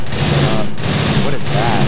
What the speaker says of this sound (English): I'm getting shot at right now